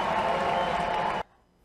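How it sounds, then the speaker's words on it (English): Audience applause for award winners at a developer contest award ceremony: dense, steady clapping that fills the hall for over a second, then cuts off abruptly into near silence. "Please give them a round of applause."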